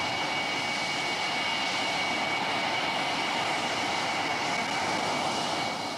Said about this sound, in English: Jim Ludford makes a perfect touchdown and taxis in after the fastest flight he has ever made.